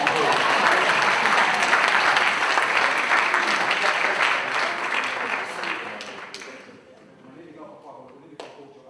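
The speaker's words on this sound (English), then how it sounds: "Give that suit a round of applause." A live audience at a Pan African talks event breaks into loud, dense applause that fills the room, then gradually thins and fades over several seconds into scattered claps and quiet room noise.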